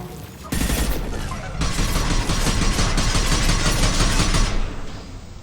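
A hacked defensive turret in the Mass Effect 2 video game fires a loud, sustained burst of rapid gunfire lasting about four seconds, with dense crackling shots close up.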